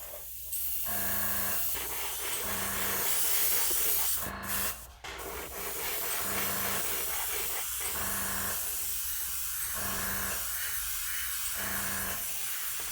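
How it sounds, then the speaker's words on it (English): Paint sprayed onto a 1:7600 Space Station K7 model kit, a steady airy hiss running through the stretch in several bursts with brief pauses, close and fairly quiet. "Got a little bit of a spray there."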